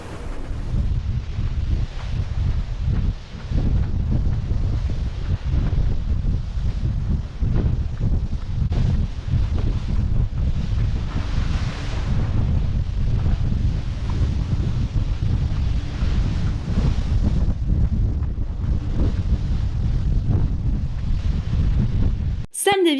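Gusty wind buffeting the microphone aboard an IMOCA racing sailboat, a continuous low roar with rushing wash of waves underneath, steady throughout.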